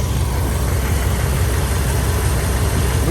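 A Ford Mustang engine idles close by with a loud, steady, unbroken rumble.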